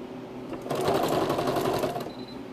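Sewing machine stitching the body of a turkey-shaped pillow, a steady, fast mechanical whirring that runs in one continuous burst for about a second and a half before stopping.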